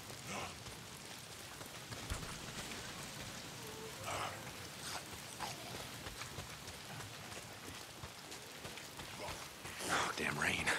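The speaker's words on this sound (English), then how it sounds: "Why is it always raining?" Rain falling in the post-apocalyptic video game Days Gone, played on PS5, a steady soft patter under a few brief voice sounds and scattered louder noises, fairly quiet overall.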